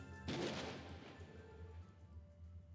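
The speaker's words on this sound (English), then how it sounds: "I liked that like a gunshot sound in the background" A single gunshot sound effect from the game Trails to Azure: one sharp, fairly faint crack set back in the background, with a lingering echoing tail over a quiet musical bed.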